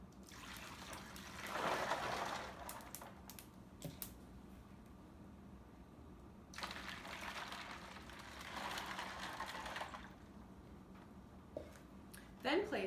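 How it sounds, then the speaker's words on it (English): Cold water trickles and pours into a large pan filled with ice, two steady stretches of running water close by, separated by quieter moments with faint clinks. "Then we'll follow this by adding cold water until it's a slushy consistency."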